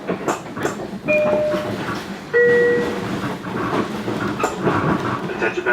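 Long Island Rail Road commuter train rolling on rails near Kew Gardens, a steady close rumble with rhythmic clatter and brief squealing tones, no talk over it.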